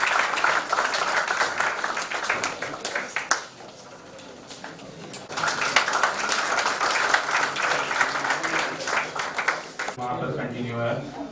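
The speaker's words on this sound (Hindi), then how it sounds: "तालियों में कहीं कमी नहीं रहनी चाहिए।" A university hall audience gives a guest, a television crime bureau chief, a welcome with loud, sustained group clapping, dipping briefly in the middle and then swelling again before a voice takes over at the end.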